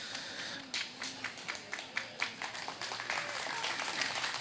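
An audience clapping along during a live music event, a run of distinct rhythmic claps following a brief wash of applause, moderately faint and steady.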